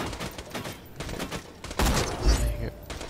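Sniper rifle headshots ring out in the Borderlands 2 shooter game, a few sharp cracks among game sounds and effects, with a voice talking lightly underneath.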